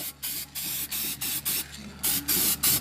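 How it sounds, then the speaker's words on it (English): Cheap spray paint from an aerosol can hisses onto a rusty car body in a quick series of about eight short, close bursts separated by brief pauses. "I just got this cheap spray paint from Walmart"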